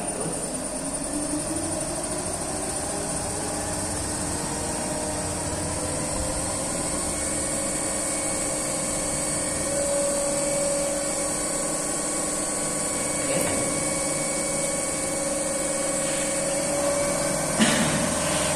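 A TERCO DC compound generator set with a 100-watt lamp load runs up to 1400 rpm, giving a steady, loud machine whine with a rising harmonic hum that holds level throughout, with no talk.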